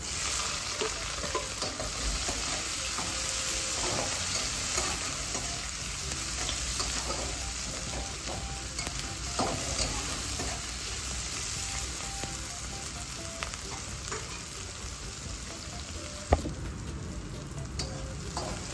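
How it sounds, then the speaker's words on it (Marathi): Spring onion and green chilli fry with dried fish in a pan, a steady dense sizzle with faint stirring scrapes, close and constant with a single sharp knock near the end. "आपण आता याच्यामध्ये पातीचा कांदा आणि हिरवी मिरची टाकूया"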